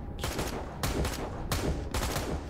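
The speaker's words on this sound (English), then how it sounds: "Why are you shooting me?" Gunfire in a first-person shooter video game, four loud bursts of rapid automatic shots separated by short gaps, close and dense with no talking.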